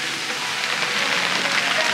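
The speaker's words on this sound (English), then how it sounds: "It's like sleet. Sleet and hail." Sleet and hail falling on surfaces at a cold remote backpacking camp, a loud dense steady patter and hiss close by, with no talking.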